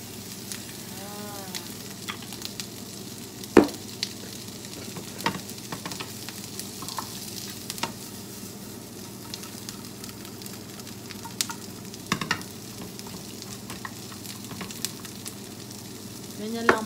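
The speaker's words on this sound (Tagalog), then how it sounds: "Ganyan lang pagluluto ng ginisang itlog." Egg sautéing in a pan, frying with a steady soft sizzle broken by occasional scrapes and clicks of stirring, close and fairly quiet with no talk.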